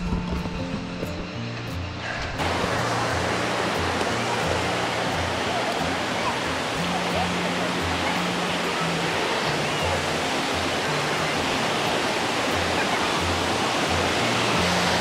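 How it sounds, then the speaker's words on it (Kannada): Hebbe waterfall in Karnataka, reached by jeep safari and trek, gives a dense, steady roar that rises suddenly after a quieter opening and then holds loud and unbroken, with faint low sounds beneath. "ಈ ಫಾಲ್ಸ್ ನೋಡೋಕೆ ಹೋಗ್ತಾಯಿದ್ದೀವಿ."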